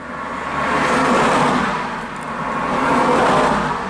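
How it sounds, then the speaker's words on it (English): Cars rush past one after another on a busy road, a loud continuous roar that swells and eases in waves as vehicles pass close by. "you see what I mean about this traffic, it's just it's absolutely relentless"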